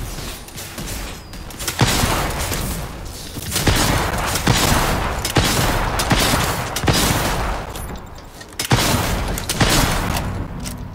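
Rocket launcher and gunfire in a video game, heard during a world boss fight: dense, loud bursts of shots and booms in long waves, with short pauses between volleys.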